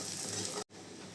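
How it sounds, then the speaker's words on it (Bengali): Chopped onions frying in a pan for a beef tripe curry give a steady, close sizzle that breaks off for a moment and then resumes. "পেঁয়াজটা ভেজে নেওয়া হয়ে গেছে।"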